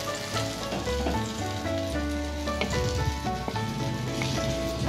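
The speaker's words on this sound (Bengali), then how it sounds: "তো আমাদের বেগুন ভালো করে ভাজা হয়ে গেছে।" Eggplant slices fry in hot oil with a dense, continuous crackling sizzle, close and fairly loud throughout.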